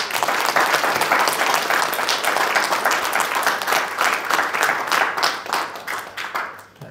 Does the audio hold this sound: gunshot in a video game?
no